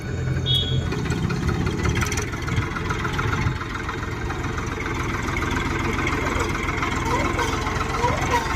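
A tractor engine idles steadily in an outdoor rural farm setting, a continuous low rumble throughout with people talking faintly over it.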